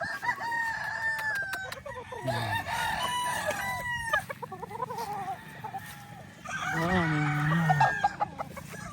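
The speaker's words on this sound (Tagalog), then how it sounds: "Daming manok." Several chickens cluck and roosters crow repeatedly at a gamefowl farm in Indang, Cavite, close by and loud, with overlapping calls throughout.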